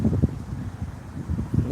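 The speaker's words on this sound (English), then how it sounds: "Because it is a little windy." Wind gusting into a microphone outdoors, producing low, rumbling buffeting bursts that rise and fall throughout, fairly close and alone with no talk.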